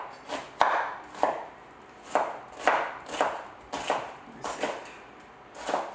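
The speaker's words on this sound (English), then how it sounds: "I'm gonna go ahead and just chop up my onions." Onions chopped with a knife on a cutting board, a series of about ten sharp, close chops in an uneven rhythm, no voices.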